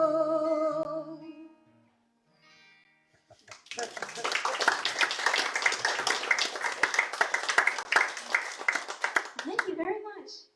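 Audience applause at a house concert after a sad song, a dense, steady clapping that swells in after a brief pause and holds for several seconds before tapering off.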